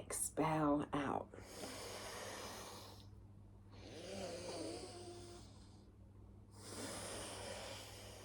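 Forceful breaths pushed out through the nose during a guided breathing exercise, several long rushing exhalations with pauses between, over a low steady hum and a brief voice at the start.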